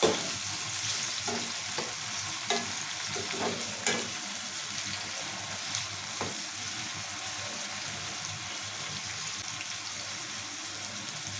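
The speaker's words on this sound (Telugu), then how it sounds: "టమాటా కూడా నూనెలలో మంచిగా మగాలి నూనెలో మగ్గితేనే మంచిగా ఉంటుంది" Tomatoes frying in oil for a cauliflower curry, a steady close sizzle with occasional stirring clicks and scrapes throughout.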